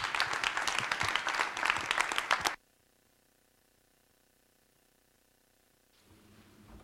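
An audience at a leadership forum applauds to welcome a speaker, dense clapping for about two and a half seconds that cuts off abruptly into near silence before faint room sound returns.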